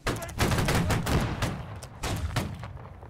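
Musket volley fire in the game Holdfast: Nations at War, a ragged, loud burst of many overlapping shots rolling on for about two seconds, then a second cluster of reports that fades out.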